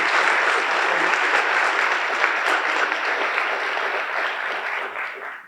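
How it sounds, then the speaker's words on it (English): Audience at a county State of the County address breaks into a big round of applause, a dense steady wash of clapping that gradually fades toward the end. "Let's give them a big round of applause"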